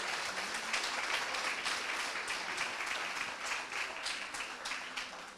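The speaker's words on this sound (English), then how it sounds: "you can give them a huge big round of applause" Sustained applause from an awards-night crowd, a dense patter of many hands clapping steadily for several seconds at moderate distance.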